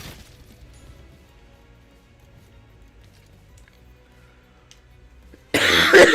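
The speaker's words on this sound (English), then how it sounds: "when will this fucking cough go away, man?" A single harsh cough bursts out loudly near the end, after a stretch of quiet low-level background from a Black Ops 7 gaming session; no one speaks.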